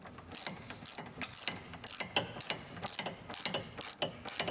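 Ratchet tightening a sway bar link nut on a 1999 Subaru Legacy Outback, steady back-and-forth clicking strokes in a continuous rhythm, close and moderately loud.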